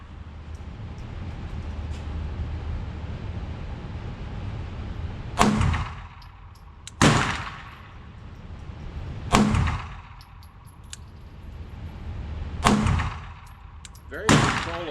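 Five sharp pistol shots from a Canik METE MC9 firing MagTech 150 ammunition at a target about 8 yards away, spaced irregularly at one to two second intervals over low background noise.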